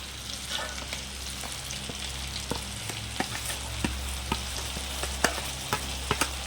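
Mustard-poppy spice paste with green chillies sizzling in oil for pabda fish curry, with a soft, continuous frying hiss punctuated by regular spoon taps and scrapes that grow more frequent toward the end.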